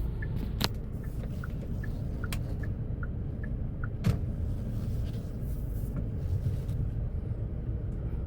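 Cars moving around an airport area, a steady low traffic rumble with faint passing vehicles and a few short tonal whines and clicks, moderately quiet and continuous.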